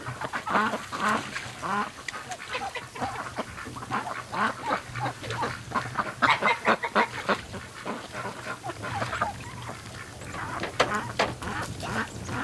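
Wintering ducks and geese quack and honk in a busy, continuous chorus outdoors, many birds calling at once at moderate distance with faint background rumble.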